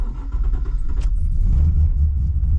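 A cammed Holden SS Commodore with an LS1 V8 starts and settles into a loud, lumpy, low rumbling idle nearby, with a short clatter around the one-second mark.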